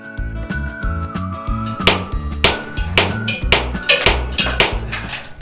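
Hard rock being chipped by hand in an underground lode gold mine, sharp repeated metallic taps and impacts ringing over a steady low mechanical drone, close and fairly loud, with no talk.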